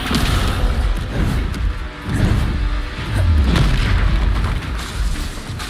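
Heavy booming impacts from the Descendo spell slamming enemies in the game Hogwarts Legacy, loud and continuous with repeated crashing thuds and rumbles in dense combat.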